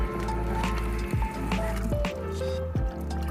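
Water runs from a tap at a house in Turkey into a container, splashing and gurgling steadily with rising bubbly tones as it fills, close up.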